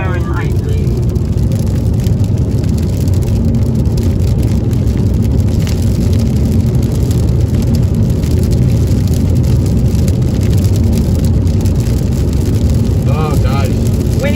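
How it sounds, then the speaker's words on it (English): Rain drumming on a rental car driving on a highway, a dense steady wash over constant engine and road rumble, continuous throughout. "we had to slow our speed up because of the rain"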